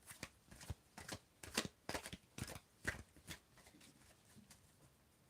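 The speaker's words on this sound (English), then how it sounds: "I am shuffling, and I need you to tell me when to stop shuffling." Tarot cards are shuffled in quick repeated riffles, a rhythmic series of crisp flutters close by, with no talking.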